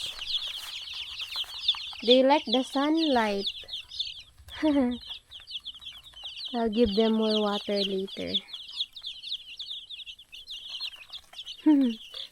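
Hens, including Rhode Island Reds, cluck and chatter in short rising bursts while small birds chirp steadily behind them, and a person talks between the clucks.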